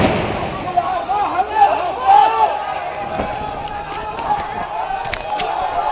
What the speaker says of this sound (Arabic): اطلاق نار على المتظاهرين واضراب قنابل في منطقه بابا عمر